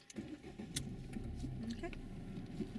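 During a driving lesson, a car engine starts quietly from inside the cabin and settles into a low, soft idle, with small clicks and rattles around it.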